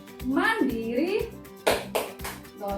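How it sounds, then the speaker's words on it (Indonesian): A fifth-grade class's tepuk PPK clapping chant: a drawn-out chanted voice followed by a couple of sharp, loud hand claps near the end. "Dilanjut tepuk PPK. Tepuk PPK."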